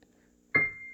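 Single high note on a digital piano, middle C shifted up three octaves, struck once after near silence and ringing as a thin, bright tone that decays slowly.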